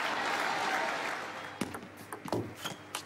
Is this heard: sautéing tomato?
no